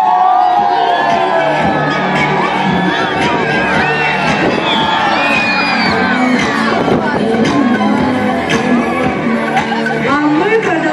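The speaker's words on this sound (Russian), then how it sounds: "Готовы? Громко-громко кричим, когда встаем." Children at a summer camp bonfire gathering shout and whoop loudly together in a rolling wave, a dense crowd roar of cheering voices that stays strong throughout.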